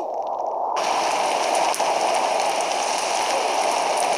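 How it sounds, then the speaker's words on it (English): Acid rain falls in a video game, a dense steady hiss of rain that swells in suddenly and stays loud and constant. "Acid rain."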